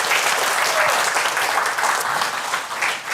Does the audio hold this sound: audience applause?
yes